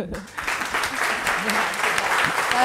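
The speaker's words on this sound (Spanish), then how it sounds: "un aplauso." Audience applause breaks out after a talk on machine learning in business, a steady dense clatter of many hands that builds slightly toward the end.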